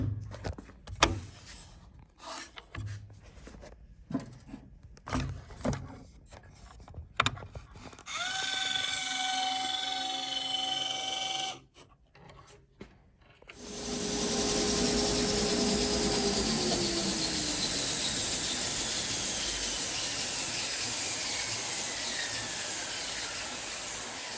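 An iVAC automated blast gate in a woodworking shop: several sharp mechanical clicks and ratcheting bursts, then a whining motor, then a loud steady rush of dust-collector airflow with a falling tone.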